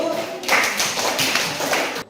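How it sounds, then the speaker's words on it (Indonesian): A classroom group claps for fellow students after a presentation, a burst of dense hand claps rising suddenly and holding steady for about a second and a half before cutting off, with some voices mixed in. "tepuk tangan untuk kelompok 1."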